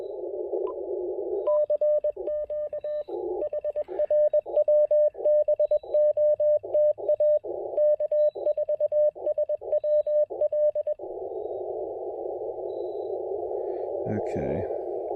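Morse code CW sidetone from a low-power ham radio transmission, a clear steady tone keyed in rapid dots and dashes over a continuous hum, with a voice speaking briefly near the end.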